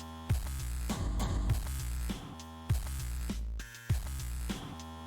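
Looping video game music from VA-11 Hall-A with a churning, washing-machine-like hum, rhythmic thumps recurring about every one to one and a half seconds under a steady droning texture.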